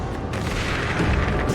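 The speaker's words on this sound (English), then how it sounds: "That's a lot of bullets." Dense, continuous gunfire and booming blasts during a boss fight against a giant cannibal in a video game, a loud unbroken roar of shots without pauses.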